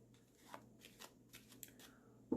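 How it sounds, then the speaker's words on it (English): A deck of playing cards given a quick shuffle: a handful of faint, soft riffling bursts spread across a couple of seconds, close and quiet, with no talking. "I'll give them another quick shuffle so you can see that their order's not fixed."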